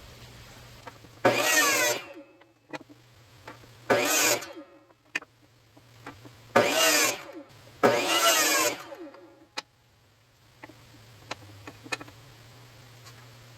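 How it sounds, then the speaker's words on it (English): A power saw cuts pieces of walnut for a segmented bowl bottom: four loud whining cuts of one to two seconds each, separated by brief clicks and a low steady hum. "So I'm going to cut a couple of pieces here."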